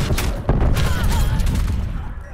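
A Semtex sticky grenade goes off in Call of Duty: Black Ops Cold War during a team deathmatch, a dense burst of gunfire and booming impacts rolling through the whole short stretch at close, loud range.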